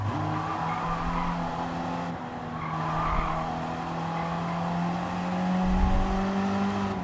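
A Volvo in the Gran Turismo 7 racing game on the Nurburgring brakes hard, its tires squealing in long sustained howls over a steady engine drone, loud and close, with no speech.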